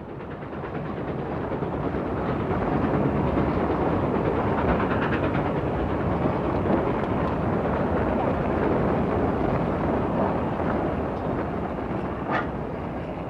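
A train runs along the Southern Xinjiang Railway with a dense, continuous rumble of wheels and carriages that swells in and holds steady at close range, with a brief sharper clank near the end.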